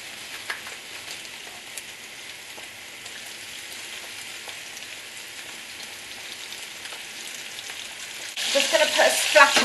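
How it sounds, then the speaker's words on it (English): Streaky bacon strips hit a hot pan near the end, breaking into loud crackling, spitting sizzle after a long stretch of quieter steady frying hiss. "I'm going to put my bacon in."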